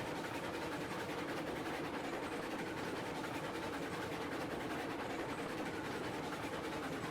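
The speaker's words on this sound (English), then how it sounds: "Come on, train." A heavy train of twelve loaded cars pulled by a Mogul locomotive rolls along rails in the video game Railroads Online, a dense continuous rumble and clatter that stays steady and loud throughout.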